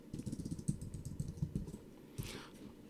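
Code being typed on a computer keyboard: quick bursts of soft, close key clicks in an uneven rhythm, faint and alone, fading after a couple of seconds.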